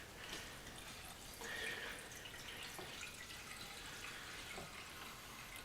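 Diesel fuel is poured from a jerry can into the tank of a Yanmar L70 6HP diesel clone engine, a faint, steady trickle of liquid with small splashes throughout.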